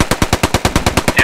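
Rapid automatic gunfire from a machine gun in the World War II shooter Post Scriptum, a steady burst of about eleven evenly spaced shots, loud and close with no talk.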